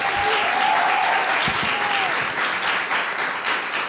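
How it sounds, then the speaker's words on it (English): An audience at a panel session on climate justice and reproductive health applauds the speakers, dense sustained clapping that stays loud throughout and eases slightly toward the end. "So if you enjoyed this session from our speakers, can you give them a round of applause?"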